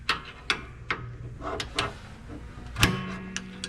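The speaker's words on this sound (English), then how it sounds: "So I'm going to be locking the latch." Hood latch on a 2005 Toyota RAV4 being locked, heard as a string of sharp, close clicks and taps, one heavier metallic clunk near the end, otherwise quiet.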